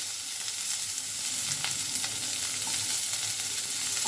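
Diced onions sizzle and crackle steadily in hot oil in a pan for a potato-tomato curry, a dense continuous frying hiss with occasional stirring scrapes, close and fairly loud.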